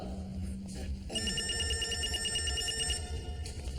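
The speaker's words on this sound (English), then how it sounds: "You have a video phone call." An electronic telephone ring announcing an incoming video phone call in a TV drama, a steady trilling tone that starts after a second and keeps ringing, alone, over a low room hum.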